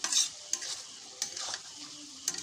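Bitter gourd curry cooked with mustard stirred in a pan, giving short scraping strokes with a soft sizzle underneath, several distinct stirs spaced across a brief, fairly quiet stretch with no talking.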